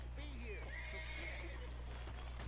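A horse whinnies in the video game Red Dead Redemption 2, a short rising-and-falling neigh near the start, set over a steady low hum and faint background noise.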